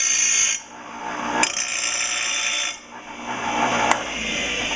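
Steel samples ground for a spark test, a power grinder biting metal in loud sustained bursts separated by short pauses, with no talking.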